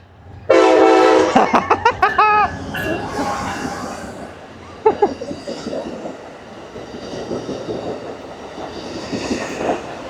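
An Amtrak train honking its horn loudly up close, a series of blaring blasts, followed by rumbling rail cars and wheel clatter passing by.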